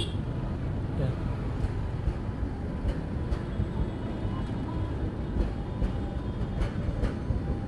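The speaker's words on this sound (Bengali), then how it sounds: "আরেকটা ট্রেন আসতেছে।" A train passes close by, heard as a steady, loud rail rumble with faint wheel clatter that fills the whole stretch without a break.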